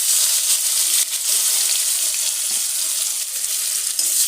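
Chopped onions sizzle and fry in hot oil with cardamom, cinnamon, cumin and green chilli for an egg curry, a steady bright crackle with faint scraping, no talking.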